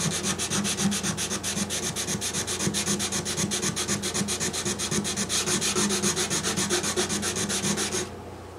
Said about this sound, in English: I'll sand this area with 320.